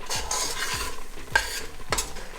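A thick mohanthal mixture of gram flour and ghee bubbles and sizzles steadily in a pan on the stove, with a spoon scraping and stirring in a regular rhythm, no talking.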